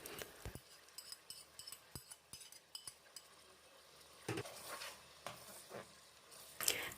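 Meat, onions and tomato paste cooking in a pot for a millet couscous dish, with a soft steady sizzle under intermittent spoon clinks and stirring scrapes against the pot, one brighter clatter near the end.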